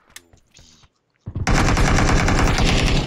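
A rifle fires in a first-person shooter video game as a rapid, loud, sustained burst of shots after a few softer clicks and short handling sounds.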